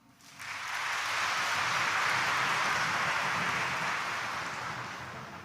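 Steady, thick clapping from a church congregation at a Quiapo Church morning mass rises within half a second and holds evenly for several seconds before easing slightly toward the end, a continuous wash of many hands.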